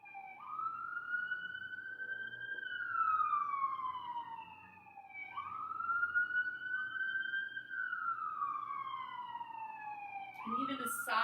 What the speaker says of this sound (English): And even the sirens in the background become an interesting tool.